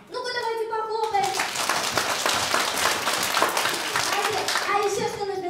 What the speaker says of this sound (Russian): Ну-ка, давайте похлопаем!